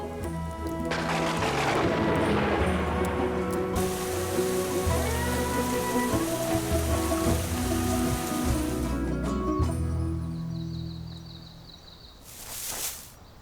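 Steady, dense rain pattering over a surface, continuous and fairly loud, with a faint low hum beneath and no talking.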